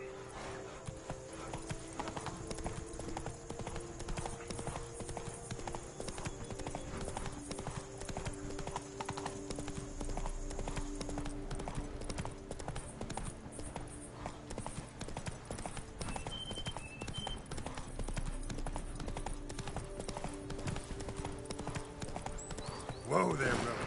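Horse hooves clip-clop in a steady, fast rhythm throughout a galloping ride in the video game Witcher 3, moderately loud, with occasional whinnies and someone talking over the hoofbeats.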